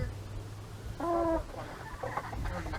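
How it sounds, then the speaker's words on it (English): A Holland rooster among backyard chickens gives a single short, loud call mid-clip, with soft clucking and low background rumble around it. "He is my rooster in this backyard with the Hollands"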